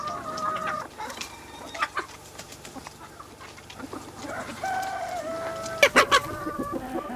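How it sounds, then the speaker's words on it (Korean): Chickens cluck busily at a free-range natural poultry farm with a dusty floor, scattered calls near and far, while a rooster crows and loud squawks burst out toward the end. "옆마을의 김정수 씨 양계장에선 닭들이 하루의 시작을 알립니다"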